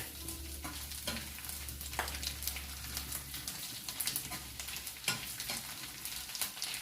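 Small anchovies (ikan teri) frying in a pan as they are turned and stirred, steady close sizzle with repeated scraping clicks of the utensil throughout, no talking.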